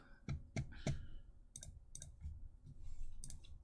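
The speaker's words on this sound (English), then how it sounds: "I keep clicking on all the wrong buttons." A handful of sharp computer mouse clicks, loud and close, spaced irregularly and then in quicker bursts, with a low room hum and no talking.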